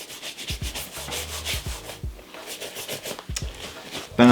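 Sneakers scrubbed with a brush and cleaner, rapid close rubbing strokes in uneven bursts with brief pauses, and a short thump near the end.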